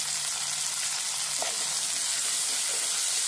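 Onions and tomato sauté in a hot oiled pan for spicy squid thokku, giving a loud, continuous close sizzle and hiss, with a couple of brief stirring scrapes and no talking.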